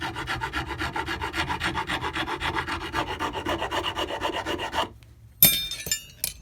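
A long-used metal file rasps on wood in steady back-and-forth strokes, close and even, stopping abruptly before a brief clatter.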